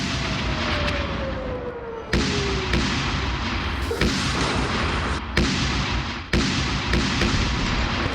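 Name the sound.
bombs exploding in airstrikes on tunnels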